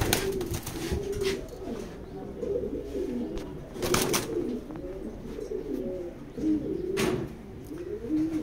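Pigeons in a loft keep up overlapping throaty cooing in steady waves, close and fairly loud, with occasional sharp clicks and knocks between calls.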